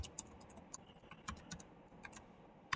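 A password typed on a computer keyboard: quiet, close keystrokes tapped in a quick, uneven run of about a dozen clicks, with no speech.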